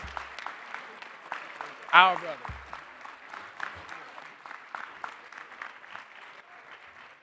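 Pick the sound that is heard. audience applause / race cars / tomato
audience applause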